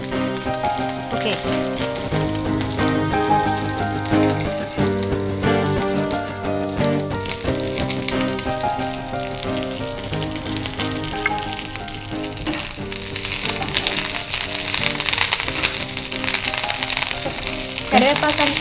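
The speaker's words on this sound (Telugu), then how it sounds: "కరివేపాకు మొత్తాన్ని లాస్ట్లో ఫ్రై చేసుకోవాలండి" Curry leaves frying in oil until crisp, a continuous bright crackling sizzle heard under prominent music, with a brief spoken word.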